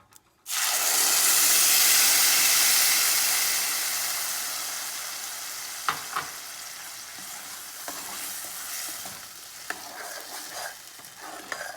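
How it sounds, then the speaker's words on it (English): Tomato puree hits a hot pan with roasted bay leaves, bursting into a loud sizzle that slowly fades to a softer fry with occasional stirring clinks, no talk. "Now bay leaves are roasted properly, so let's put in the tomato puree that we had into it."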